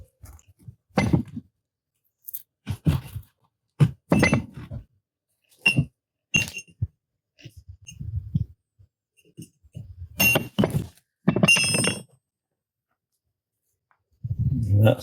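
Hand chiselling along a crack to split a piece of stone: sharp, separate hard taps and chips, close by, coming in irregular bursts with short quiet gaps between strikes.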